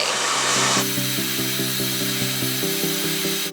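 A blow dryer roars loudly while drying the roots of curtain bangs, with a round brush working through the hair, and its steady rushing airflow shifts into a humming, pulsing tone partway through.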